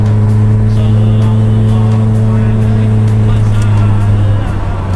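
A loaded car climbs a steep hill, its engine droning in a low, steady, heavy strain that holds loud and close throughout, with someone talking over it.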